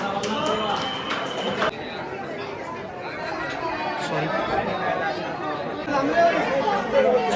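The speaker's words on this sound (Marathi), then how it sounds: "एवढी गर्दी" A dense crowd at the Jejuri Khandoba temple, a continuous murmur of many voices with scattered footsteps and shuffling, steady and close all around.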